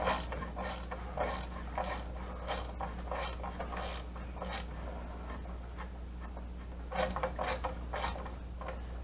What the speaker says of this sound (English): let me get this bolt turning a little bit